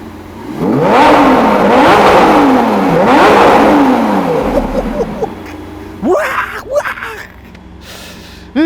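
Lamborghini Aventador SVJ Roadster V12 revved hard twice, each rising wail climbing and falling in pitch, loud and close, followed by quieter blips and brief talk.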